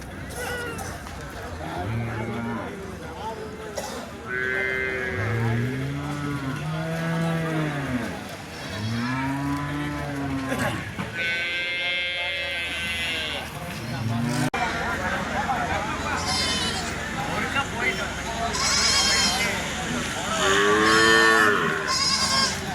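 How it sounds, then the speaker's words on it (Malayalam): Cattle at the Elippara livestock market, dairy cows and meat cattle together, let out repeated long, loud moos one after another over a steady din of crowd chatter. "ഇന്ന് അത്യാവശ്യം നല്ല ഇനം കറവ പശുക്കളും അതുപോലെ തന്നെ മീറ്റിനാവശ്യമായ പശുക്കളും ഊരികളുമെല്ലാം നമ്മുടെ എലിപ്പാറ ചന്തയിൽ വന്നിട്ടുണ്ട് കേട്ടോ"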